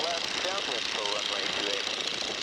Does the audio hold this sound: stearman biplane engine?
yes